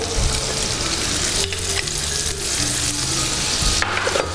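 Butter sizzling loudly in a pan with pasta, a dense close crackling hiss throughout with a few stirring scrapes and no voices.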